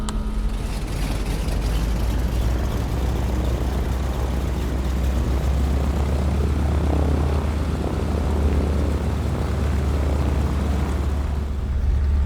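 A de Havilland DHC-2 Beaver's radial engine idles for its warm-up at 1000 RPM, a steady, loud propeller drone with a broad rumbling hum that holds unchanged throughout.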